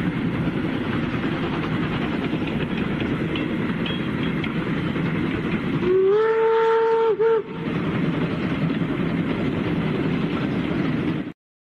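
A steady rumbling train passes at length, with a single train whistle blowing for about a second and a half midway through. No one speaks.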